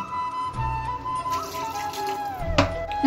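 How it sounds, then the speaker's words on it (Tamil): Water poured from a tumbler into a pot of pepper rasam with turmeric and salt, a steady close splashing trickle lasting a few seconds, with no talk over it. "ஒரு 1/2 டம்ளர் அளவு ஜலம் சேர்த்துடலாம்."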